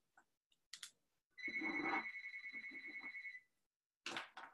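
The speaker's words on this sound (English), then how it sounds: "no one's going to get that phone, so if you hear it, it's fine." A telephone rings inside a chapel with a bright, warbling electronic trill that holds for about two seconds, preceded by a few faint clicks and followed by a soft noisy burst in an otherwise quiet room.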